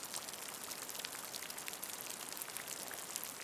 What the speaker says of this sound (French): En un instant, une grosse pluie tombe.